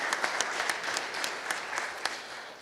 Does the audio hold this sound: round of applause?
yes